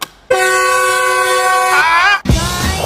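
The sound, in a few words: train whistle horn fitted to an Ora Good Cat car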